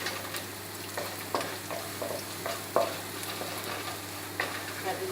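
Chopped garlic and ginger sizzle steadily in a pan, with a few soft clicks and scrapes of stirring over a continuous close frying hiss.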